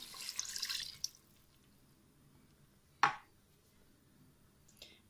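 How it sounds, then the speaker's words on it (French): Water pours into a Cookeo electric pressure cooker pot holding beef with tomato: a brief, bright splashing rush lasting about a second, then quiet with a sharp clack and a fainter knock later on. "Et ensuite, on va venir y verser l'eau."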